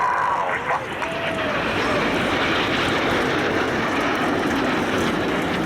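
A Red Arrows jet flying at an Armed Forces Day air display, a steady loud roar of jet engine noise that fills the clip, with faint voices underneath.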